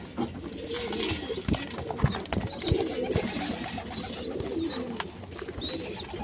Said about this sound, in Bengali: দেখতেই পাচ্ছ পায়রা সুরকি খাবে বলে কেমনি করছে